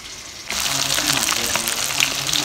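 Fish pieces drop into hot oil and burst into a loud, sudden sizzle that holds as a dense, crackling fry up close.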